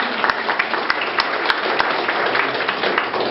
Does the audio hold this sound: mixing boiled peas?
no